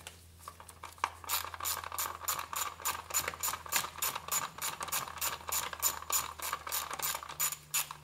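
An 8 millimeter socket on a ratchet working the spark plugs of a Ford F150, giving a steady fast run of metallic pawl clicks that goes on throughout, close and clear, with no speech.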